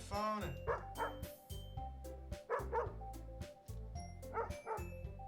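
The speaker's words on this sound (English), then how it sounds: "I want to be like a remix song with dog sound effects" Dog barks and yips cut into a remix song, repeating in a bouncy rhythm over a steady synth beat and bass, loud and up front throughout.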